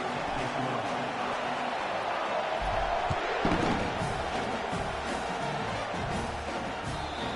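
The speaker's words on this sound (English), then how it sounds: "This crowd bringing an ear-splitting welcome to their visitors." A football stadium crowd roars loudly and continuously as the Sooners kick off, a dense, steady wall of cheering with a few thumps rising through it.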